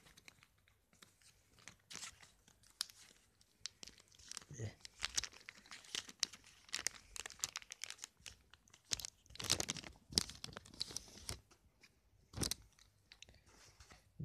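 The foil wrapper of a trading card pack is torn open and crinkled in sharp, irregular bursts of crackling and ripping, close to the microphone, with a person talking quietly in between.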